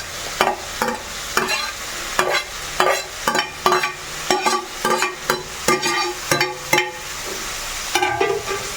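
Spoon scraping and stirring fried broad beans (avarekai) through a dish in a pan, a steady run of close, loud scrapes and clacks with a faint sizzle beneath.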